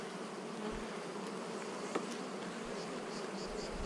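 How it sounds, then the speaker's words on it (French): Honeybees at a hive make a dense, continuous close buzz, with one louder bee passing near the mic about midway. "Ça gueule vite une abeille."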